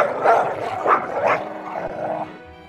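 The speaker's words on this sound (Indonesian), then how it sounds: "Anjing penjaga menggonggong keras." Guard dogs bark loudly a few times in quick bursts, fairly close, then the sound trails off into a low rumble.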